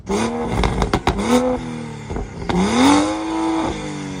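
A stock BMW M235i engine is blipped several times in quick revs, each rising and falling, then held higher twice, close and fairly loud.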